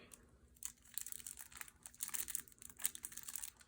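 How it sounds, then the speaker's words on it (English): Plastic packaging of a Yu-Gi-Oh Spirit Charmers structure deck being torn open, with close, dry crinkling and crackling in irregular bursts throughout. "let's go ahead and crack open the deck here"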